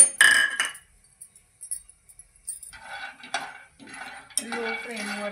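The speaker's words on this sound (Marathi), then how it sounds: "लो फ्लेम वरती शेंगदाणे चांगले खरपूस भाजून घ्यायचे आहे" Peanuts are roasted in a pan over a low flame. They rattle and clink against the metal in scattered bursts, with a louder scrape at the start and stirring noises near the end.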